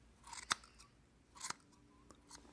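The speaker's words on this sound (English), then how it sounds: "Now this is done nicely with shears." Metal shears snipping wool on a piece of leather: two distinct crisp cuts about a second apart, then a fainter third snip, quiet and close with a soft rustle of fleece between them.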